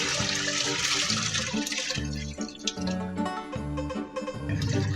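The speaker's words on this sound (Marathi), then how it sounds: "पुन्हा एक कळशी मी पाणी घालत आहे." A pot of water is poured into a washing machine drum holding clothes and detergent. The gushing splash is loud and close at the start, then continues unevenly under a pulsing tonal background.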